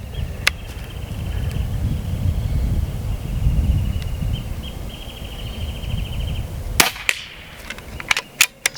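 Several sharp shots from a Crosman Benjamin Marauder .22 PCP air pistol crack outdoors near the end, after a stretch of wind and rustling with faint birdsong in the background.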